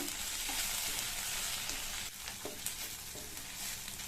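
Steady sizzling of onions, chilies and tamarind sautéing in a pan for chutney, with a few soft stirring scrapes and clinks, close and continuous with no voices.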